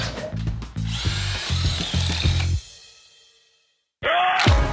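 A power drill revs in a few short pulsed bursts, then runs steadily and winds down to silence before starting up again with a high whine.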